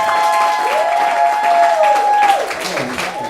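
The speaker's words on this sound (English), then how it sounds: "a mighty hand clap right now" An audience applauds a singer in a hall, a dense wash of clapping filling the whole clip at steady loudness, with tonal ringing and a voice faintly over it.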